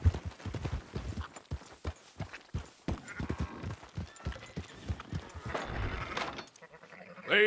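Sheep in Red Dead Redemption 2 bleat in a series of loud, close calls, mixed with rhythmic clip-clop hoofbeats, building to a busier stretch before a brief pause and a final sharp sound.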